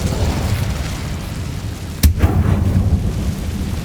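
Incendio fire spell cast in Hogwarts Legacy: one sharp, loud burst partway through, rising out of a steady low rumble, followed by a brief crackling tail and no voices.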